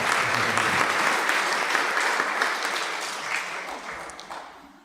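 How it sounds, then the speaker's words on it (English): An audience applauds Dr. Anantanand Rambachan at a 75th birthday celebration evening, a dense, steady wash of clapping that stays loud and then tapers slightly toward the end, with no voices over it. "I ask you to give him a round of applause"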